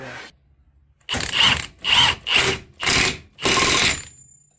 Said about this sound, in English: I'll put this nut on there and tighten it down